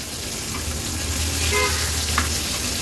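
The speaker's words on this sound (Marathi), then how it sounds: "आता एक एक करून ह्या वाकट्या आपण पलटून घेऊया" Ghol fish pieces frying in oil in a pan over a medium flame, a steady close sizzle with a faint scrape or two as pieces are turned, and no talk.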